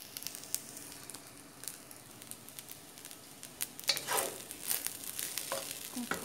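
Garlic fried rice with eggs fries in a pan, a close steady sizzle with crackling pops that grows louder and busier partway through as it is stirred.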